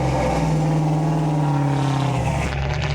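A modified wood-paneled Jeep XJ, built to over 780 horsepower, revs loudly while driven, its engine note holding a steady drone before sliding lower near the end, close and alone with no voices.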